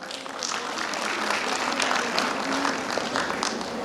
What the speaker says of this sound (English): Let us all welcome them with a warm round of applause.